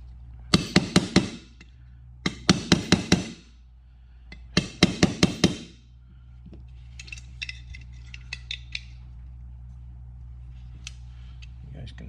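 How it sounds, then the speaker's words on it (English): Sharp metallic hammer blows land in three quick bursts of four to five strikes each as thin-gauge exhaust corrugation is beaten down on a Stihl MS291 chainsaw, followed by lighter tapping and clinks, with a steady hum beneath. "taking that corrugation, hammering it down to where this thing's actually fitting on there"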